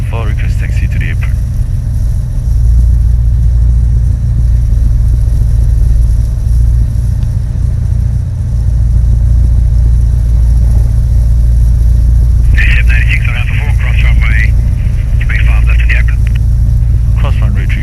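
Inside the cabin of a Sling 2 light aircraft taxiing at an airfield, a loud, steady low engine drone runs throughout while radio chatter and pilot talk come through intermittently.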